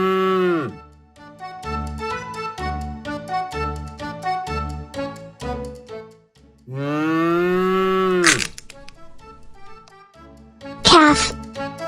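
A cow moos in long, loud, drawn-out calls, alone and close, with a second bellowing moo after a pause and brief higher bursts near the end.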